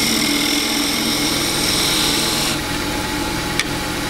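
A lathe tool makes an arcing cut on a turning wooden bowl while beads are shaped, giving a steady, close, rasping hiss over the drone of the spinning lathe, with one sharp tick near the end.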